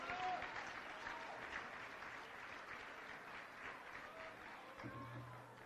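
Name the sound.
audience applause for the auctioneer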